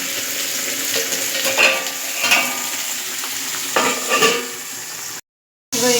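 Pieces of pointed gourd and bitter gourd coated for crispy pakora fry in hot oil, giving a steady, close sizzle with brief stirring swells and a short silent gap near the end.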